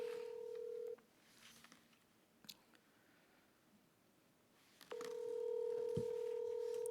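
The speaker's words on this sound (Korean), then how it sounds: "일단 한번 전화로 연결을 해보도록 하겠습니다." Telephone keypad dialing tones place a call from a broadcast studio: a steady tone, a quiet pause with a few faint clicks, then the tone again, clear and close.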